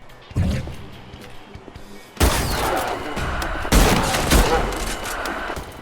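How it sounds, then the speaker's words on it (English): Loud bursts of gunfire in the video game ADACA, heavy sustained volleys with booming impacts and a dense, noisy roar, close and punchy. "Guns sound powerful."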